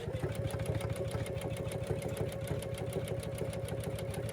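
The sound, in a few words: embroidery machine sewing a tack down stitch on applique fabric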